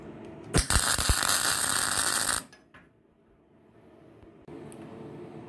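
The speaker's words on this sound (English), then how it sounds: "So I'll just lay the third weld down," MIG welding lays a third pass of a multi-run weld, a loud, steady crackling hiss lasting about two seconds with a couple of sharp pops, then quiet.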